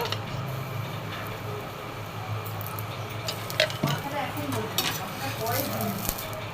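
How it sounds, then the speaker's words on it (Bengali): Paratha frying in a little oil in a pan gives a soft, steady sizzle close by, with occasional light clinks and scrapes of a utensil against the pan. "হালকা তেলে অল্প তেলে পরোটা দুপিট করে ভেজে নেবে"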